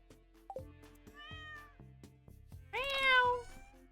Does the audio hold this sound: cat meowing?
yes